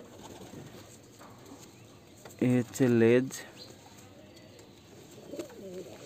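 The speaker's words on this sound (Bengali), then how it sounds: "সবচেয়ে পুরাতন পায়রা" An old domestic pigeon gives a short burst of low, throaty cooing in two quick phrases, close by, while someone talks quietly before and after.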